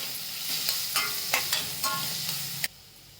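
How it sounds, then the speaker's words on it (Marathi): Chopped onion sautéing in a pan for chicken masala pav, a soft steady sizzle broken by several sharp scraping stirs of the spatula, ending abruptly. "कांदा चांगला परतून घ्यायचा"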